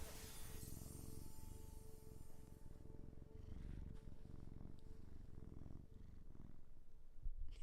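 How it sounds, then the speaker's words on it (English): A cat purrs steadily while curled on a person's lap, a close, continuous low rumble throughout with no talking. "He's being a baby on my lap and purring"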